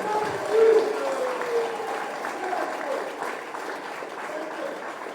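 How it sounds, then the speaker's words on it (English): Applause from residents at a community meeting in West Demerara, a sustained round of clapping mixed with voices, moderately loud and gradually easing off. "Give them a big round of applause."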